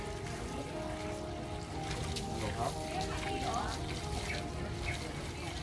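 An elephant on Phuket, Thailand, drinks water in a steady, close rush of splashing and pouring that runs throughout, with faint voices and background activity mixed in.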